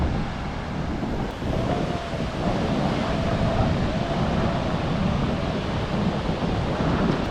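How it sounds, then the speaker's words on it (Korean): Strong ocean surf rolls in continuously on the beach at Weligama, Sri Lanka, a broad steady roar of breaking waves mixed with wind, close and loud throughout with no voices. "오늘 파도 센데? 오, 저 파도 높은데?"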